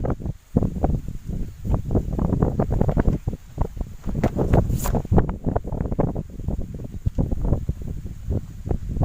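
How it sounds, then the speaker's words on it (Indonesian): Wind gusting against a microphone outdoors, rough buffeting rumbles that swell and drop in irregular bursts, close and fairly loud with a faint rustle. "Angin."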